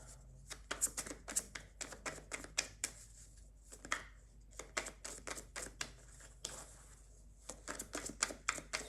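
Tarot cards being shuffled, with rapid bursts of crisp riffling and slapping that come in quick clusters separated by short pauses, close and fairly quiet, no talking.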